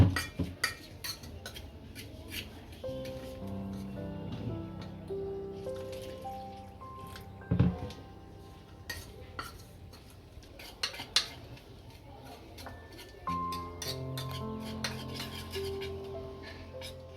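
A utensil clinks and scrapes against a bowl in irregular bursts while stirring pudla batter with water, with quiet pauses between the louder taps.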